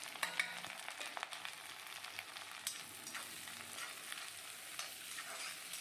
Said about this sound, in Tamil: சோம்பு பொரிஞ்சோன்னே நம்ம இப்போ வெங்காயம் ஆட் பண்ணிக்கலாம்